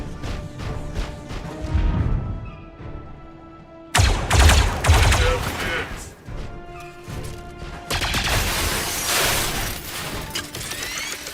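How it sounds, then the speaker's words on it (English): Blaster fire in the Star Wars Zero Company tactical game, dense rapid volleys of shots with crashing, smashing impacts that swell into a loud barrage, no voices. "Are blasters this destructive in the lore?"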